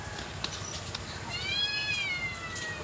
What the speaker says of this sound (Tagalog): Huwag ka maingay. Pusa.